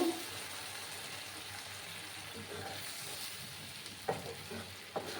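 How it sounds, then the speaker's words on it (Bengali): Hot water poured into spice paste frying in oil while cooking fish roe, with a steady soft sizzle and a couple of sharp spoon scrapes near the end, faint and close. "এবার আমি এটার মধ্যে গরম জল দেব"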